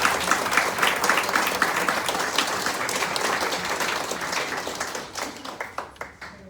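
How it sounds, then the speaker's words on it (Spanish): Audience at a talk on Down syndrome and autism gives sustained applause, a dense wash of many clapping hands that thins out and fades toward the end. "Aplauso para ustedes."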